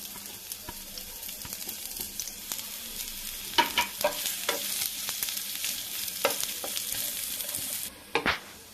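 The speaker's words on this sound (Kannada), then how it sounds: "ಈರುಳ್ಳಿನೂ ಚೆನ್ನಾಗಿ ಹುರ್ಕೋಬೇಕು." Onions fry in a pan for a yellow pumpkin dish, a steady close sizzle with intermittent sharp clicks and scrapes of a spoon stirring, and a brief pause near the end; no one talks.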